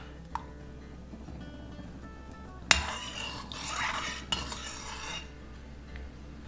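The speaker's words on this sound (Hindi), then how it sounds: "अब हम लोग डाल देंगे इसमें 1-1 करके गुलाब जामुन और तेल को ऐसे ऐसे हिलाते रहेंगे" Gulab jamun frying in hot oil as a utensil stirs the pan, with a sharp metallic clink, soft scraping and a brief hissing sizzle, faint and close.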